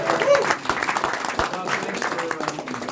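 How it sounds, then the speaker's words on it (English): Crowd applause at a political event with the Vice President, a steady wash of clapping mixed with crowd noise and some voices, moderately loud throughout. "Give them a round of applause."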